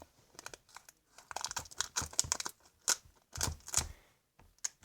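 Sharp, irregular bursts of tape being pulled and torn off a roll, crackling in quick clusters with brief pauses, close and fairly loud.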